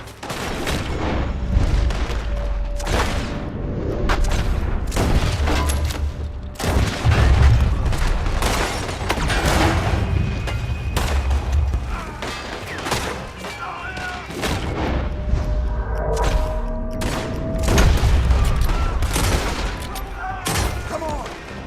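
A loud shootout in the Western video game Red Dead Redemption 2, with dense, continuous volleys of gunfire and booming shots rattling without pause for the whole stretch.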